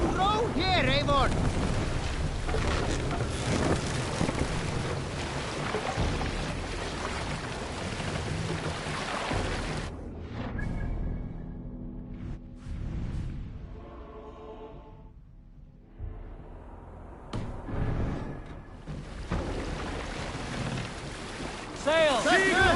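Longship rowed across open water in Assassin's Creed Valhalla, a steady wash of water and wind noise at first, then thinning to quieter splashes and creaks with a few louder surges near the end.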